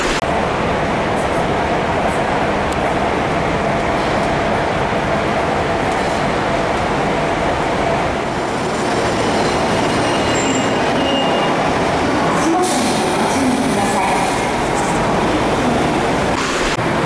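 A metro subway train in Japan rumbles loudly and continuously as carriages roll along the track, with wheel squeal and rattling throughout, heard from inside or right beside the train.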